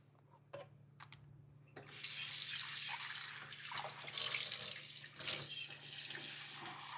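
A kitchen tap runs water into a cooking pot. After a few quiet clicks and handling sounds, a strong, steady rush of water pours for about five seconds, close by.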